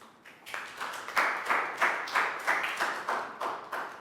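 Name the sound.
children clapping in a classroom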